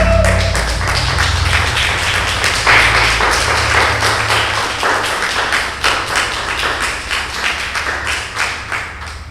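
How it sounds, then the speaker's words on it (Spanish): A messianic congregation claps together during a Spanish-language service, producing a loud, continuous patter of hands with rhythmic accents, gradually thinning toward the end. "Dale el aplauso a él."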